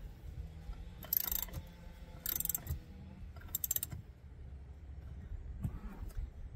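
A ratchet tightens the armrest mechanism in a Cadillac Escalade, giving short bursts of close, sharp clicking, three clustered groups, with quiet gaps between them.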